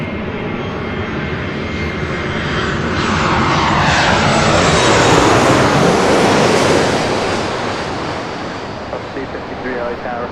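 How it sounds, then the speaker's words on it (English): A Southwest Airlines Boeing 737 MAX 8 jet roars past at LAX with a broad engine rumble that swells toward the middle and fades away, heard alone without talk. "That is Southwest Airlines flight 853 heading to Austin, Texas in the 737 MAX 8."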